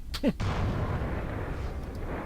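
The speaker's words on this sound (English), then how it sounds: "And now the missile launcher, of course." A missile launcher fires in the starship combat game Starfleet Command: Orion Pirates, one sharp launch blast at the start followed by a sustained, heavy rumbling roar that carries on loudly.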